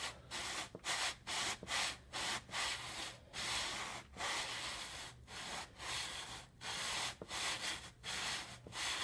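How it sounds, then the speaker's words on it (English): A coarse sander rubs across the cement section of a diorama part in repeated back-and-forth bursts with short pauses, close and steady with no talking. "I'm going to start with a coarse sander here, and I'm going to sand the part that's going to be cement."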